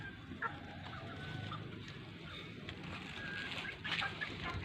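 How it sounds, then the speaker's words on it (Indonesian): Chickens feeding on rose flowers, clucking softly at close range with scattered short calls and light rustling throughout, no voices. "Ayam ini doyan kembang."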